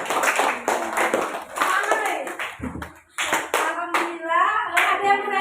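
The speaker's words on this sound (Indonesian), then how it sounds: "tepuk tangan kepada semua kelompok." Classroom applause for all the discussion groups, a burst of children's hand clapping that swells and fades, broken by a brief lull, with young voices chattering underneath throughout.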